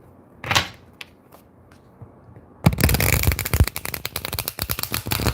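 Tarot cards are shuffled by hand: a few isolated taps and flicks, then a loud, dense riffle of rapidly fluttering cards that rattles on for several seconds, close up and without talk.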